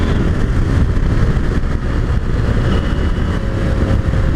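A KTM 890 Adventure R motorcycle engine pulls hard in fourth gear out of a corner toward redline, a loud, steady, dense roar that holds at full throttle without a break throughout.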